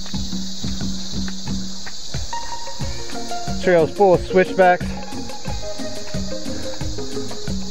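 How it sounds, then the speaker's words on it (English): Cicadas on a jungle trail near Playa Venao, Panama, a steady high buzzing drone with rhythmic pulsing chirps throughout, while a person talks over it. "Cicadas provide the beat."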